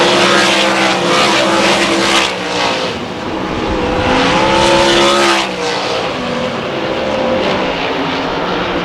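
Race cars battle for third on track at Susky, with Rick Barr's 00 car under pressure; loud, continuous engine roar rises and falls as the cars pass close by, and no voices are heard.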